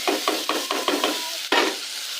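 Tomatoes go into browned meat for a stew in a pot. A sizzling fry sounds under a quick series of stirring scrapes, about eight rhythmic strokes, close and fairly loud.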